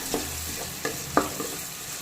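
Onion sautéing in a pan for a Sheela fish curry, a quiet background sizzle broken by a few soft scraping stirs spaced through the moment.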